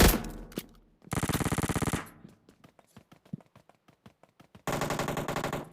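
DP machine gun firing in a PUBG match on the Livik map, with loud sustained bursts of rapid automatic fire, then a stretch of scattered distant single shots, then another long heavy burst.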